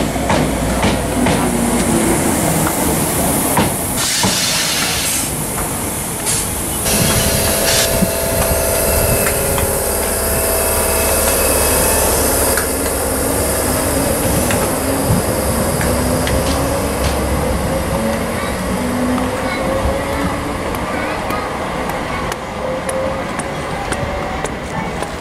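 A Dalmuir to Cumbernauld passenger train pulls into a station, wheels clattering over rail joints and the engine droning loudly close by, with a long rolling rumble and rhythmic clickety-clack throughout.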